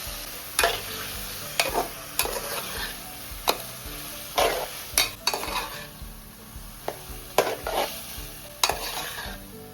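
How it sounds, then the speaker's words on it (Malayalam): Prawns sautéed with tamarind water in a pan for konju theeyal: a steady low sizzle broken by repeated sharp spatula scrapes and taps at an uneven rhythm, close by, with no voices. "ഇത് നമുക്ക് കൊഞ്ചിനകത്തോട്ട് ചേർക്കാം. നന്നായിട്ടൊന്ന് ഒന്നുകൂടെ ഒന്ന് വഴറ്റിയെടുക്കാം ഈ കൊഞ്ച്."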